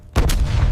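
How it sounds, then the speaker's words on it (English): A test round of ammunition goes off in a ballistics laboratory chamber, one sharp, loud blast after a brief quiet, followed by a heavy lingering rumble. "A controlled explosion."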